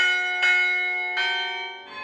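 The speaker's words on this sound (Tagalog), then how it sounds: "yung hammer niyo po sa taas po maghahampas po doon sa bell para po tutunog po yung kampana" Two loud, close strikes of a church carillon bell rung by a hammer pulled down on a wire, each hit followed by a long shimmering ring that decays slowly.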